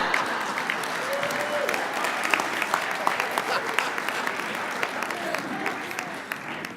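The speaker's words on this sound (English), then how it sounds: "Another round of applause for our 2016 graduates" A crowd claps steadily for 2016 LPN graduates at a nursing pinning ceremony, a continuous wash of applause with faint voices mixed in.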